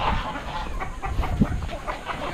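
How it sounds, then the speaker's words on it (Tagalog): Farmyard chickens cluck in a busy, layered murmur, close and fairly loud against steady outdoor background noise. "manok."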